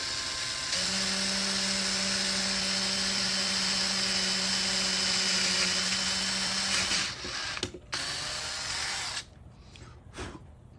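An M35 cobalt split-point drill bit bores into an aluminum wheel, producing a loud, steady high-pitched whine for several seconds before it stutters, cuts out briefly, and returns more faintly.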